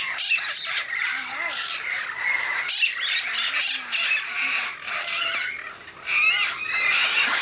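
Rescued parrots squawk over and over in harsh, overlapping calls, with a steady spray of sprinkler water hissing underneath throughout.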